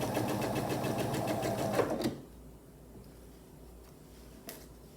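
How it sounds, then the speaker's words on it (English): A sewing machine with a quarter-inch presser foot chain pieces quilt block fabric in a fast, steady run of needle stitches, close and loud, stopping after about two seconds, followed by quiet handling noises. "this is just called chain piecing, and I will just keep on feeding these through without cutting my thread"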